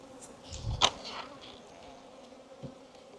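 Agitated bees around a beehive, a faint continuous buzzing hum with occasional louder passes close by, plus a brief knock.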